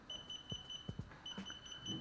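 A DJI Spark drone battery gives off faint, repeated short high-pitched beeps in quick bursts, with a few soft clicks and handling knocks in a quiet room.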